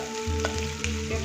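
Chopped onion and capsicum fry in oil with garlic and chili, crackling in a close sizzle layered over a droning hum that pulses in rhythmic bursts.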